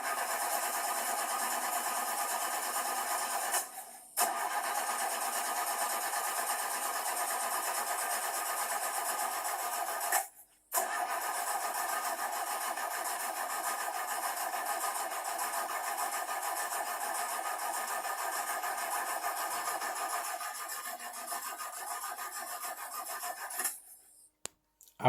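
Battery-powered toy train engines run with a steady, rasping whir of small motors that continues almost without a break, stopping briefly twice and cutting out near the end.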